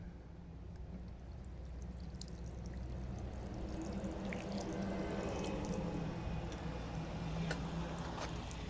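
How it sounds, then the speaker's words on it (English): Water is sprinkled onto a flagstone patio during mortar repair, a continuous soft pouring and splashing patter that swells slightly and stays fairly quiet and close. "Just going to sprinkle a little water here."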